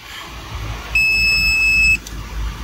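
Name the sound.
PDU beeping alarm after overcurrent protector tripped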